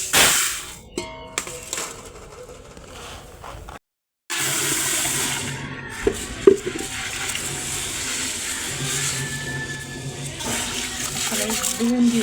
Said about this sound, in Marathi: धुवून घेऊया स्वच्छ ज्वारी.